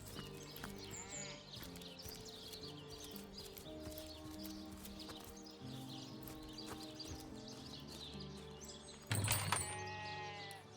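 Sheep bleat in the video game Divinity: Original Sin Enhanced Edition, faint calls over steady game music and ambience, with a louder burst of effects near the end.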